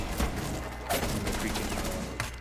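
Gunfire in a Rainbow Six Siege match, a few sharp shots with bursts near 0.2, 0.9 and 2.3 seconds over a constant busy game background.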